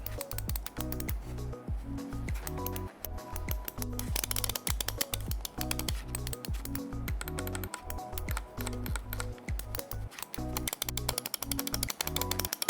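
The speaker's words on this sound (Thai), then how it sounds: "เสียงก็จะค่อนข้างลั่นนะครับในส่วนของตัว เมาส์นะครับ" A Razer Viper 8K gaming mouse with optical switches clicks rapidly and steadily in sharp, crisp bursts, loud and close with no talking.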